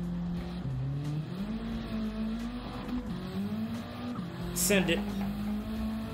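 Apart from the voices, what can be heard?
car engine revving and downshifting in the video game Motorfest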